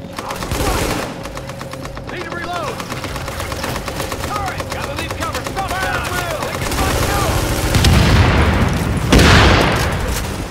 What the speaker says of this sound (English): Yeah, explosions everywhere.